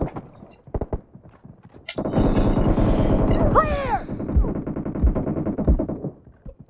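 PUBG Mobile gunfire: a few sharp shots crack out, then a dense burst of rapid firing with thuds, while excited players shout over the shooting.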